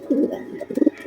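Pigeons cooing close by, a few soft low rolling coos in quick succession, clear and alone.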